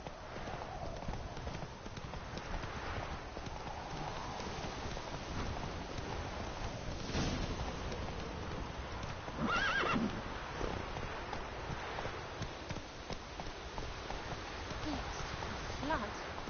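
Horse Roach from The Witcher video game neighs and whinnies with a steady clip-clop of hooves underneath, over a constant wind-like background, with a louder burst of neighing near the middle.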